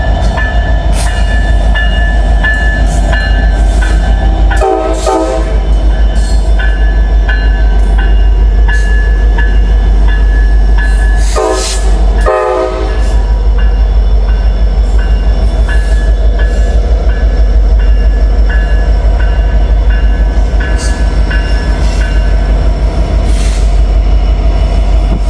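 Two returning helper locomotives pass at Horseshoe Curve with a loud, steady low rumble, rolling rail noise and brief bursts of wheel squeal.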